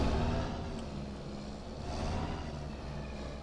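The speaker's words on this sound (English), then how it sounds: "This truck is so loud. It's ridiculously loud." Truck engine in Farming Simulator 25 drones in a loud, continuous low rumble, heavy in the bass and holding steady with slight swells, alone without talk.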